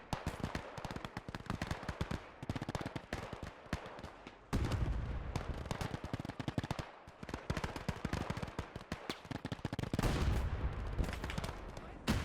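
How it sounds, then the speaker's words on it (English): An MG42 machine gun fires in rapid sustained bursts during a World War II battle in the game Gates of Hell, with dense crackling gunfire and distant explosions throughout. "that's MG42 opening up now."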